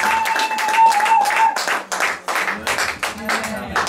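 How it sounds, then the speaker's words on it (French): Church congregation clapping together in praise, a loud, rhythmic run of distinct claps in quick succession, with a sustained voice or tone lingering underneath early on. "Let us clap for God."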